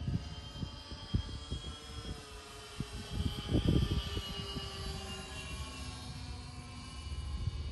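An E-2C Hawkeye RC model airplane, a 71-inch electric ARF, flies with a steady motor drone, swelling briefly louder mid-pass before settling back into a continuous hum, with no voices.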